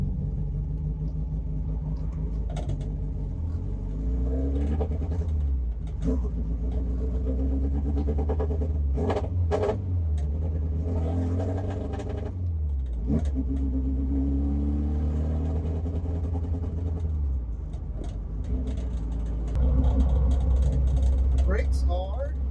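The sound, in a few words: Saab Sonett engine running while warming up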